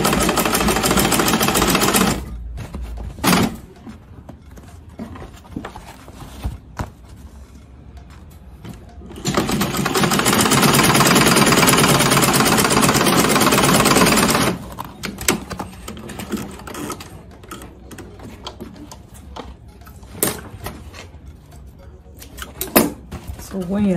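A sewing machine stitches two Ankara fabric baseball cap panels together in bursts, with a loud sustained run in the middle and shorter stops and starts around it, close by.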